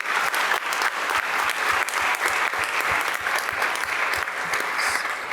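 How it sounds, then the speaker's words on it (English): An audience at a university pitch competition gives a sustained round of applause, dense, loud clapping with sharp individual claps standing out, continuous across the whole stretch. "let's give them all a great round of applause as a group"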